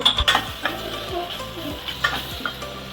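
Paneer butter masala gravy ingredients with ginger-garlic paste sizzle softly in a pan while a utensil scrapes and stirs, with a few sharp clinks of metal near the start.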